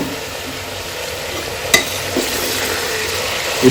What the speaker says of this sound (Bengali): আদা রসুনের পেস্ট সমস্ত মশলাগুলো যেগুলো বললাম সমস্ত কিছু এবার হাই আমি কষাবো